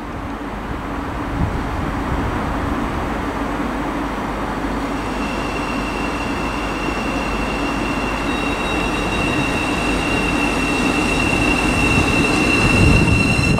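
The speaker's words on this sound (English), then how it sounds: "we've got a Great Northern service from Moorgate" A Great Northern Class 717 electric train, unit 717-018 running from Moorgate, moves through Stevenage station on the East Coast Main Line with a steady rolling rumble, rising wheel squeal and a sustained high electrical whine, loud and close.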